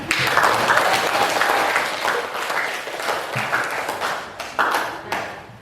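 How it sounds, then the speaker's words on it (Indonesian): Classroom students clapping for classmates who presented and responded, a lively burst of close applause that swells, dips and picks up again, mostly alone with little talk. "kita beri tepuk tangan"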